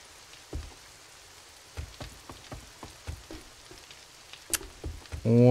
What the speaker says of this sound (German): Ach, Regen.